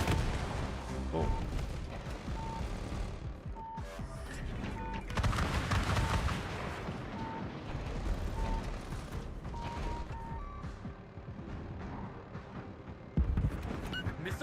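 Missile strikes and artillery-like blasts boom through a busy video game battle, dense rumbling impacts and mechanical clatter layered over a steady tone that beeps at intervals, with louder bursts near five and thirteen seconds.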